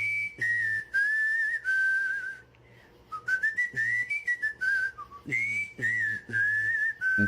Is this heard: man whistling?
yes